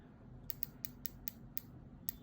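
Unidirectional rotating bezel on a DM1936 Navy Collection U3001 48mm wristwatch, turned to give a series of about eight crisp, sharp clicks in quick, slightly uneven succession, close up and alone.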